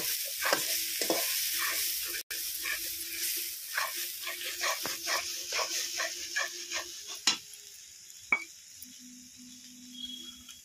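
An onion, tomato and spice masala for palak paneer fries on low heat, giving a soft sizzle under repeated scraping strokes of a spoon, with a faint steady hum and a few sharp clanks near the end.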